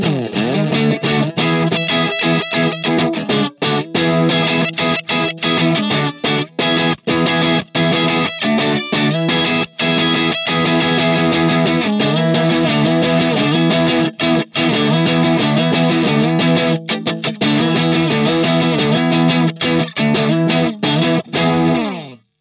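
A distorted electric guitar plays continuously through the Overloud Vintage Collection 2 amp simulator, strummed chords and riffs ringing loud and dense throughout.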